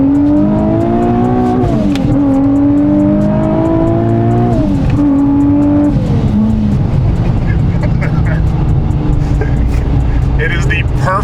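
Supercharged Nissan 370Z engine revving loudly and continuously, with rising and falling pitch sweeps under a steady roar, while a voice talks over it.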